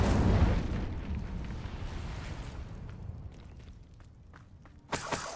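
The Incendio fire spell cast in the video game Hogwarts Legacy opens with a loud, low whooshing burst that fades into a rumbling crackle, then a sharp bright burst near the end.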